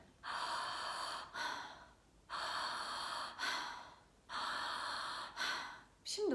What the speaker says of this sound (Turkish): Nefesi şöyle bir daire şeklinde, bir sirkülasyon halinde nefes alıp vermeye devam ediyoruz şu şekilde.